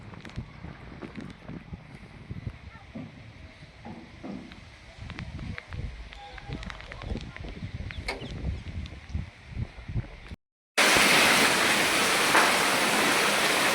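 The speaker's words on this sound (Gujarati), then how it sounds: "આ બધો વરસાદ જ છે." Heavy afternoon rain at Khadadhar makes a steady, rough wash with scattered splashes, then swells abruptly into a much louder, dense roar after a brief gap near the end.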